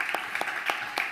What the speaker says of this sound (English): Big applause for Emilia.